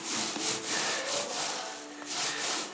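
A 4mm microfiber paint roller sleeve, 230mm long, rolls paint across a shiny gloss enamel surface, giving close, steady rubbing swishes that swell and fade with each stroke, with no talking.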